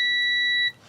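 A continuity tester gives a steady electronic beep with a clear tonal pitch, holding for most of a second before cutting off abruptly.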